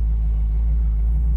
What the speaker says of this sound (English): I'm just touching the accelerator and she sounds like a race car